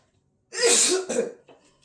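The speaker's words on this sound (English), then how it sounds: "That was the Scotch bonnet powder, causing me to sneeze." A single loud, close sneeze caused by Scotch bonnet pepper powder bursts out of silence, followed by a softer trailing breath.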